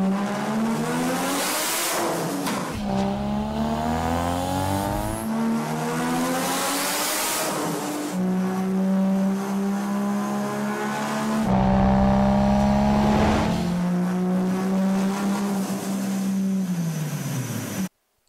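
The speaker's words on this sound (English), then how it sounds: "Here is another T04Z R34 GTR on a dyno." A turbocharged Nissan Skyline R34 GT-R engine with a T04Z turbo revs hard and repeatedly on a dyno, rising and falling pitch with loud sustained pulls and short gaps between runs.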